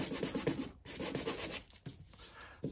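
Hand sanding with a small piece of sandpaper on Porsche 911 body work, rough rhythmic rubbing strokes in quick bursts with brief pauses, close and fairly quiet.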